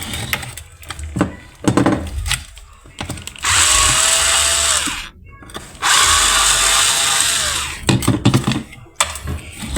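A portable cordless battery screwdriver removing parts from a Maspion blender whirs loudly in two sustained bursts, with clicks, taps and handling noises between them.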